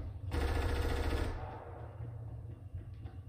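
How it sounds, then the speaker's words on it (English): Automatic gunfire in the Fortnite video game, a dense loud burst lasting about a second, then fading into quieter distant game ambience. "Here's some gunfire."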